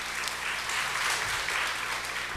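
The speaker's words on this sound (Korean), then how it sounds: "우리 이명훈 선교사님께 한 번 더 큰 박수 하겠습니다" An audience at a Trinity Remnant conference session claps steadily for a missionary speaker, a dense, even wash of applause throughout with no voices over it.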